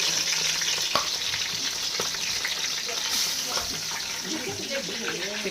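Onions and chicken fry in a hot pan with a steady, loud sizzle, with occasional stirring scrapes and a faint voice in the background.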